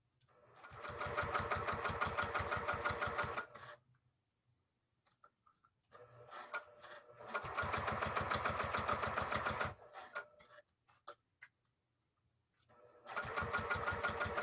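A sewing machine stitches a handwork travel case in three bursts of rapid, even needle chatter at close range, each lasting a few seconds, with faint handling noises in the pauses between runs.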